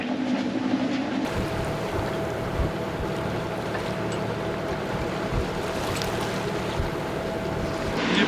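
A sailboat beats close-hauled under sail, with steady wind roar and waves rushing along the hull in a continuous, even wash, no voices.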